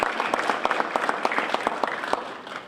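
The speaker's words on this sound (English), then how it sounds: "We give them all a round of applause." Applause from a roomful of guests at an elected officials luncheon in Russell County, steady dense clapping with sharp individual claps standing out, fairly close and loud, tapering slightly at the end.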